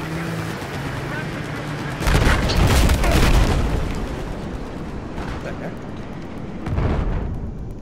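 Grenade explosions in Battlefield 4 land as loud, deep booms over steady in-game battle noise, one big blast followed by a smaller one a few seconds later.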